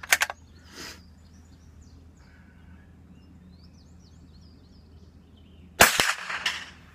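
Savage Mark I G rifle shots at a steel plate rack outdoors: a sharp crack at the start, then a later cluster of rapid reports and metallic pings, with faint birdsong filling the quiet stretch between.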